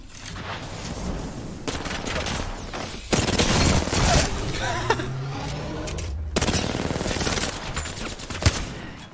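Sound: gunfire in the video game Apex Legends

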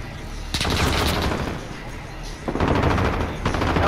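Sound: gunfire in video game Call of Duty: Modern Warfare

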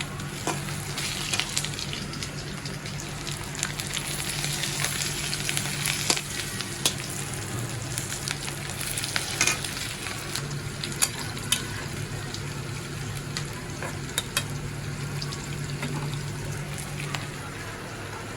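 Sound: french fries frying in oil

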